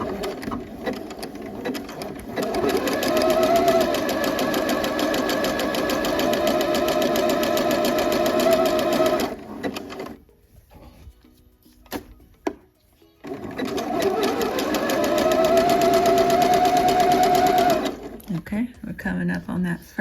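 A domestic sewing machine stitches a seam on fall jogger pants in two long, steady whirring runs, with a brief pause between them where it stops, clicks and backstitches, then restarts at a fast even pace.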